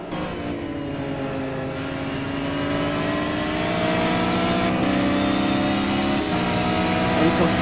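GT race cars, a Nissan GTR among them, roar past with engine notes climbing steadily as the pack accelerates, loud and dense throughout.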